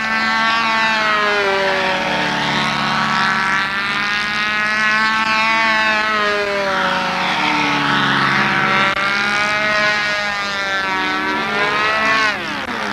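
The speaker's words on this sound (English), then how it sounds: "I hear a four-stroke." A four-stroke engine on a control-line model aircraft drones loudly and steadily, its pitch rising and falling in smooth sweeps as the plane circles overhead in windy conditions.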